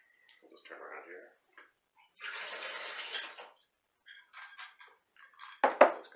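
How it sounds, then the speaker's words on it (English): Water from fruit and nut seeds soaked for days is poured off in several short splashing bursts, the longest in the middle, followed by a sharp clatter near the end. "And so we'll pour off the water."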